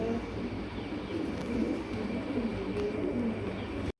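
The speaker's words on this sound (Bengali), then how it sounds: "চলেন এক এক করে কবুতর দেখানো।" Many pigeons kept by a breeder coo throughout, a steady low murmur of overlapping calls from birds close by, with no talk over them.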